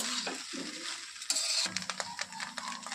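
Salt and sugar are stirred through vegetable egg fried rice made from leftover rice in a pan, with a steady sizzle, scraping spatula strokes and a few sharp clinks of utensil against metal.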